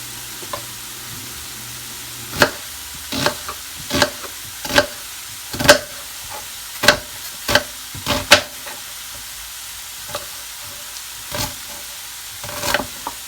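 Onion frying in a pan, a soft steady sizzle broken by a dozen or so sharp pops and stirring clicks at uneven intervals, close and fairly loud, with no voices.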